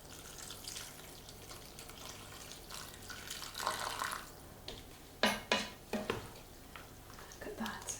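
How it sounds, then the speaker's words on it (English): Water poured from a pot into a simmering shepherd's pie filling with mushrooms, a soft splashing trickle with pan clinks and several sharper knocks, faint and close in a home kitchen. "And then top it up with some water."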